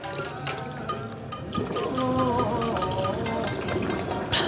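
Spring water in Kyoto poured out to taste, a steady close trickle and splash with faint background noise and no talk.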